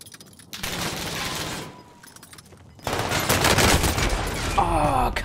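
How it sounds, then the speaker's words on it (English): Automatic Kilo gunfire from a shooter video game, delivered in two dense rapid bursts with a short lull between them, the second burst louder and longer. "What gun was that? The Kilo or something?"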